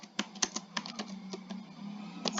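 Quick, light keystrokes tap out on a computer keyboard in a short, uneven run of clicks against a quiet background hum.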